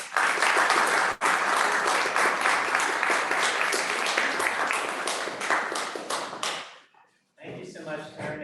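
A lunchtime talk audience applauds to welcome a speaker, dense steady clapping close by that dies away after about seven seconds, then a voice begins speaking.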